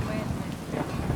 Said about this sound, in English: Just in the rain, man.